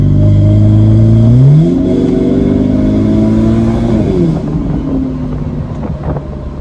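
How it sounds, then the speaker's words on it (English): A BMW 1 Series E88 pulls hard under acceleration, its engine note climbing steadily in pitch with a supercharger-like whine, then easing off partway through as the tone drops and settles, with wind rush throughout. "whenever you put your foot down as well, it's like it's got like a sort of supercharger whine"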